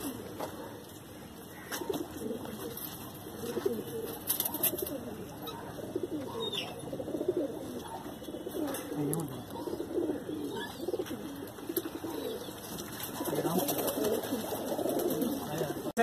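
Mangalagiri pigeons coo in a loft, a continuous overlapping murmur of soft low throaty calls from several birds, with faint chirps and light background noise.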